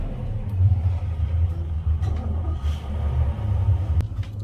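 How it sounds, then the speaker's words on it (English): Twin Yamaha 350 outboard motors on a Pursuit boat starting up, a steady low engine rumble that swells and holds close by, with a brief sharp click near the end. "Let's fire up these motors."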